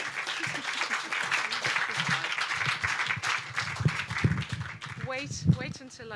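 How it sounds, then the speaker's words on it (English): A live audience gives a mid-afternoon round of applause, dense steady clapping running throughout with voices and some cheering mixed in underneath, fading slightly toward the end. "let's have a gentle mid-afternoon round of applause for Toranj Konsari"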